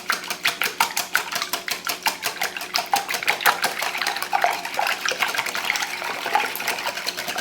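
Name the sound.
beating fresh eggs with milk by hand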